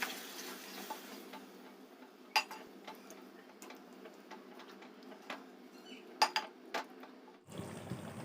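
Water poured into chicken biryani masala in a pot, a soft, steady wash of liquid with scattered clicks and stirring knocks, ending in a louder gush.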